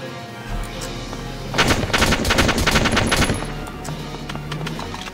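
Rapid machine-gun bursts from the Valkyria Chronicles video game crackle loudly for about two seconds mid-clip, framed by quieter in-game battlefield ambience.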